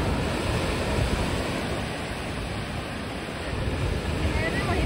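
Ocean waves at Vagator Beach in Goa, a steady, loud wash of surf that continues without a break, roughened by wind buffeting the microphone.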